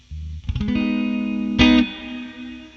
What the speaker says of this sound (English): After shimmer, you have comet. And this is the one with the flanger on the reverb, which is really interesting.